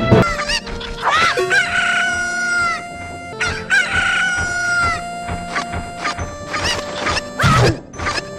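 The Cucco chicken item in Super Smash Bros for 3DS squawks and clucks loudly in repeated bursts, mixed with game music and sharp hit and crash effects.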